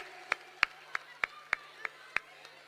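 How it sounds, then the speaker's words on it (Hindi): Claps ring out for K.C. Venugopal at a Congress gathering, a sparse, evenly spaced run of about eight crisp, close claps rather than a full crowd roar. "जोरदार तालियां बजाइए आदरणीय केसी वेणुगोपाल जी के लिए"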